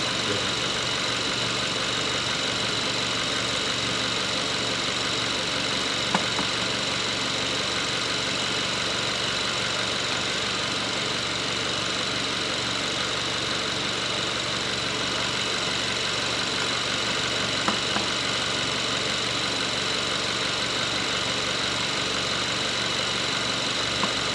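A GDi gasoline car engine idles steadily for a long stretch, its constant hum carrying a faint rattling or knock with a few light ticks, and no talking.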